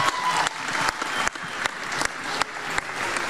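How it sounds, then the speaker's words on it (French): Theatre audience at a CCNB stage show applauds young performers, dense clapping throughout with a few sharper individual claps standing out, fairly loud and close. "Ça s'applaudit, s'il vous plaît."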